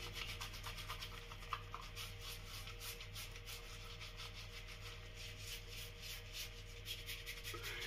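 Preshave soap is rubbed onto skin close to the microphone, a quiet, rhythmic scratchy rubbing that repeats in steady strokes throughout, with no voices.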